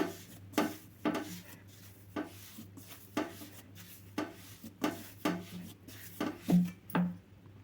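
Gram flour (besan) laddu mixture is kneaded and pressed by hand in a vessel, giving soft rubbing swishes at a steady pace of roughly one per second over a low constant hum.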